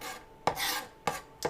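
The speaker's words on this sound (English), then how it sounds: "I'm chopping up garlic" Kitchen knife chopping garlic on a cutting board, three sharp, evenly spaced strokes about half a second apart, each followed by a short scraping rasp, close and alone.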